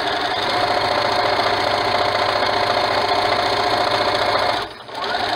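A sewing machine runs steadily, top stitching a cloth mask with a fast, even mechanical whir close to the microphone, stopping briefly near the end before restarting.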